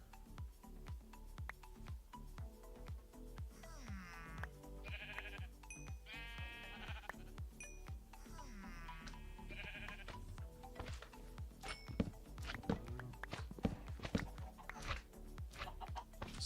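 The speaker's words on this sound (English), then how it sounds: "there's some sheep up ahead." Sheep bleat in the blocky sandbox game Minecraft, several short wavering calls around the middle of the stretch, set over a busy game soundtrack with clicks and steady background noise.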